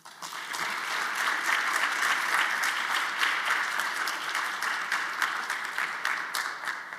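Sustained audience applause at a DEI ceremony and celebration, a steady dense wash of many hands clapping that carries evenly through the whole stretch with no voices standing out.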